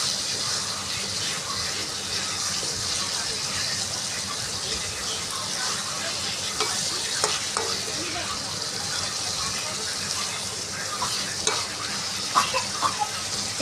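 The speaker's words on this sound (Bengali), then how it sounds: "কাটা আলুগুলো দিয়ে কষিয়ে নিচ্ছি।" Cut potatoes fry in oil being released from the pan with a dense, constant hiss, while stirring adds scattered scrapes and light knocks throughout.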